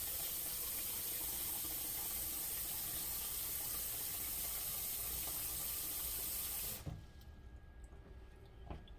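Water pours steadily into a pot for tamales, a continuous loud splashing gush that stops abruptly near the end, leaving quiet room noise.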